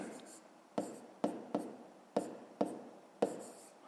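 A pen writes a short word on paper, close and quiet, with six or so crisp strokes and taps spaced irregularly over a few seconds.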